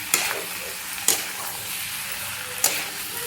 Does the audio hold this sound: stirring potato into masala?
yes